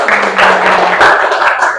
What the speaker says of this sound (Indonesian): Tepuk tangannya dong untuk Nadifa